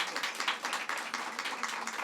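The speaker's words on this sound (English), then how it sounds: "Let's give her a round of applause." Audience applause fills a room at a governor's public event in Brooklyn, a fairly faint, even patter of many hands clapping, steady throughout without talk.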